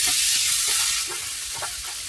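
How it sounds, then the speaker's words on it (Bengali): Oil heating and sizzling in a kadai (wok) for frying puri, a steady bright hiss with light crackles, close and continuous throughout. "ভাজবো পুরির জন্য তেলটা আমি কড়াইয়ের মধ্যে দিয়ে দিচ্ছি।"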